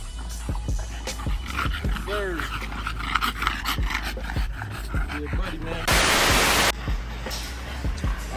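French bulldogs or exotic bullies pant rapidly and steadily nearby in a rhythmic huffing pattern, joined by a burst of wind-like rushing noise partway through, with a voice talking over parts of it.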